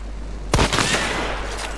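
Gunfire in the shooter game Hunt: Showdown: one sudden, loud shot or quick burst cracks out and then rolls off into a lingering echo, with no voices on top.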